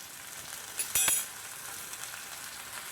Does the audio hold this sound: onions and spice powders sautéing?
yes